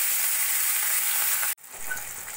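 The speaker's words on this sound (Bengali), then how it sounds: "এবার মাছগুলো আমি একে একে ভেজে নেব।" Rui fish, rubbed with salt and turmeric, frying in hot oil in a wok, producing a loud continuous sizzle that cuts off abruptly and then resumes slightly quieter, heard close with no talk.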